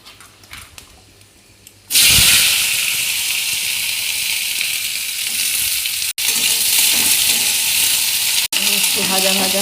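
Dry red chillies and bay leaves hit hot oil in a pan for a tempering, bursting into a loud, steady sizzle after a quiet start that continues with brief breaks.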